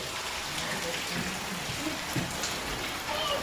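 Rain falls in a village with a steady, moderately loud patter on surfaces, a continuous wash of drops and faint murmuring voices beneath.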